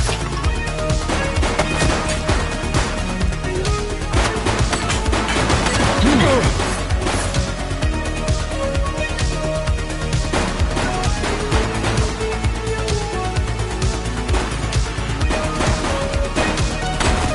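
Dense, continuous gunfire and crashing impacts in the police game The Precinct, loud and sustained throughout with no clear breaks.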